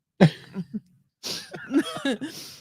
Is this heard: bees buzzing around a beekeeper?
no